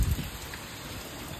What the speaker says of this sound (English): Got that rain coming in